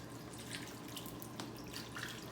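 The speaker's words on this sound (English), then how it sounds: "So I'm gonna pour all of this" Cooking liquid with onions poured over a Passover brisket, a steady, moderately quiet splashing trickle of liquid lasting a couple of seconds, with no talk.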